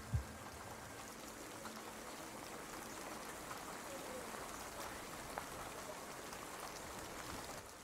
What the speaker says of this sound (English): It's always raining in Nurmengard.